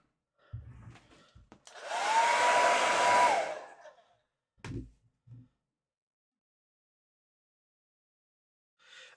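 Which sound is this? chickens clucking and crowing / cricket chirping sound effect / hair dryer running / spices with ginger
hair dryer running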